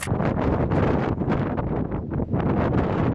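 Strong wind roars across the open deck of the Tsawwassen ferry between Vancouver and Victoria, buffeting the microphone in a loud, steady rush with gusting surges throughout.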